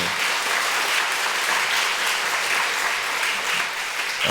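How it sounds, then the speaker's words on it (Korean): A church congregation claps for the university students during a Sunday evening service, a steady, even wash of applause that fills the room throughout without speech. "우리 박수 한번 쳐주세요"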